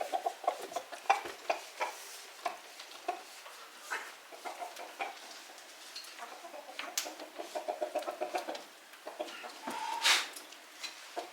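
Several chickens cluck softly near a door, a continuous scatter of faint, close clucks and light scratching, with no voices.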